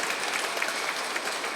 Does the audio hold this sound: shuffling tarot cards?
no